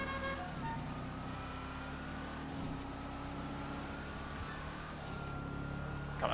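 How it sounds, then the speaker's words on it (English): Steady engine drone of a car driven from a first-person view in a racing video game, a continuous low hum with faint tonal whine holding level throughout, no voices. "This car sounds so nice in first person, too."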